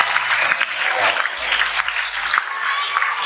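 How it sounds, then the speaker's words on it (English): A cheering audience applauding at a talk-show taping, a continuous wash of clapping and crowd noise close by and steady throughout. "Ryan happily shared a tender moment with Henrik Lundqvist, right in front of a cheering audience."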